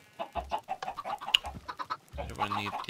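Minecraft chickens on an egg farm cluck in a rapid, overlapping jumble of short repeated calls, fairly close and busy, with occasional low thumps beneath.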